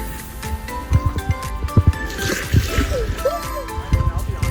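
River water splashes and sloshes against a raft on the Guadalupe River near Canyon Lake, Texas, with repeated close slaps and gurgles and voices talking in the background.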